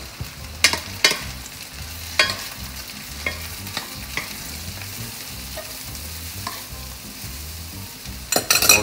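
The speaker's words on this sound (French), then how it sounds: "On les fait sauter très vivement" Mushrooms and shallots sautéed over high heat on a very hot plate, a steady loud sizzle broken by repeated sharp clacks and scrapes of a utensil tossing them in the pan.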